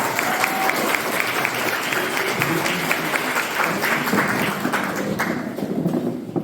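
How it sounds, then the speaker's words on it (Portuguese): Audience at the opening session of an international communist camp applauding a speaker, dense sustained clapping from a room full of people, fading slightly toward the end. "Palmas para a camarada Flávia."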